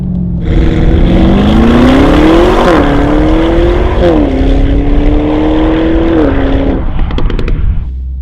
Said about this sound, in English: we do a little launch control start